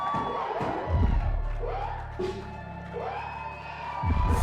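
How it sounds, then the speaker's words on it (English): A sold-out crowd cheers and roars in the Great Hall during a wrestling show, a dense wash of voices with a low sustained hum beneath, holding steady for several seconds before swelling again at the end. "Soaking in the adoration of the sold-out crowd here at the Great Hall"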